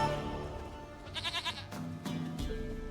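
A goat in The Witcher 3 video game bleats in a quick run of wavering, pulsing calls at close range, followed by a few shorter bleats over steady background game sound.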